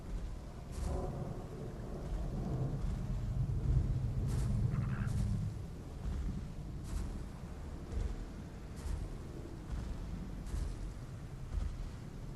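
Steady rain falls over a jungle swamp while deep thunder rumbles and rolls in the distance, with scattered sharper crackles breaking through the continuous wash of rainfall.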